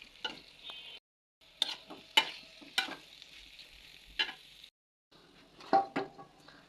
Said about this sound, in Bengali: আলু দেওয়ার পরে হালকা নাড়াচাড়া দিবেন।